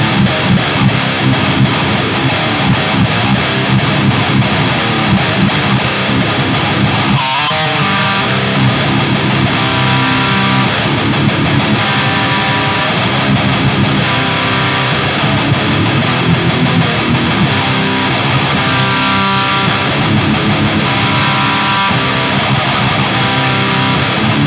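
A heavily distorted electric guitar plays loud, dense metal rhythm through a Joyo Bantamp XL amp with a touch of reverb, sustained and continuous for over twenty seconds with one brief dip.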